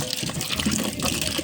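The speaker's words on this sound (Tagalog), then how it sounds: "So, hugasan muna natin kasi nakalimutan ko pala tong hugasan." Chayote rinsed under a running tap, a steady splashing gush of water over the vegetable, close and continuous for the whole moment.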